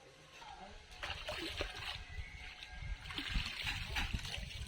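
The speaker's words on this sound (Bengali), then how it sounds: "বেগুনটা কেটে নিয়েছি, এবার ধুয়ে নেব।" A cut eggplant rinsed in water, soft splashing and sloshing with trickling in two clusters, faint and close, alone without talk.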